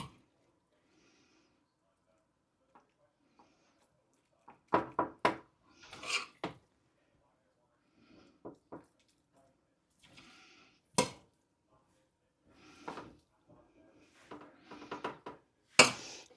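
Cheesesteak filling spooned into hollowed stuffed peppers, heard as scattered soft scrapes and clinks of a spoon against a dish, quiet stretches between, with a few sharper knocks near the end.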